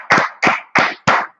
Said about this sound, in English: clap it up for the next time